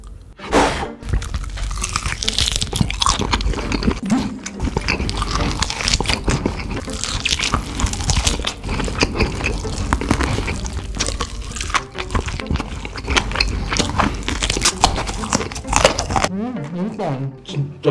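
Crunchy chewing of oven-baked chicken at a mukbang meal, with loud, close bites and rapid crackling crunches running continuously, with wet squishy mouth sounds and a brief tail of other noise at the end.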